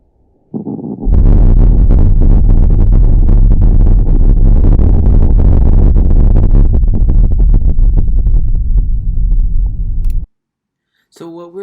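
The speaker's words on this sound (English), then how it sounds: "an earthquake actually sounds like this" An undersea earthquake recorded by hydrophone: a deep, continuous low rumble that swells in abruptly and roars for about nine seconds with crackling texture, then cuts off sharply, followed by a brief faint noise.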